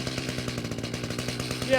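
Chainsaw cutting through an ambrosia maple log into thick round cookies, its engine droning loud and steady at close range with a rapid pulsing chain rhythm throughout.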